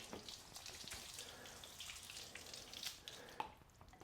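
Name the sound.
garden hose water sheeting off a car panel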